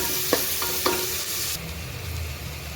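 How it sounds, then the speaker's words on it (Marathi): Onions fry in a pan with a steady close sizzle while being stirred, a couple of spoon taps early on, and no voices. "मस्त लालसर भाजून घ्यायचा कांदा."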